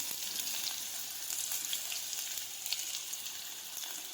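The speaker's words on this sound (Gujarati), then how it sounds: "હિંગ નાખી દઈશું લીમડાના પાન નાખીશું ત્યાર પછી સમારેલી ડુંગળી નાખીશું" Chopped onion with asafoetida and curry leaves sizzles in hot oil, a steady, even hiss of frying that holds throughout with no voices.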